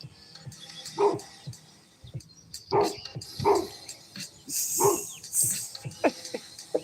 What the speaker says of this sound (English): Since I said that, he been barking.